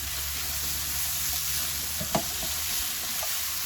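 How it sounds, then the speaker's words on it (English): Chopped tomatoes sizzle in a hot pan for an egg and chicken roll, a steady, fairly soft frying hiss broken by a couple of light knocks from stirring. "Then we add our tomatoes, which is the last ingredient"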